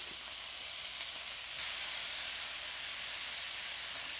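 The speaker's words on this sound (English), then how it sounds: "I'm going to saute up these onions." Onions sautéing in butter give a steady, close sizzle with a constant bright hiss and no pauses. Partway through, the frying swells a little louder and keeps that level to the end.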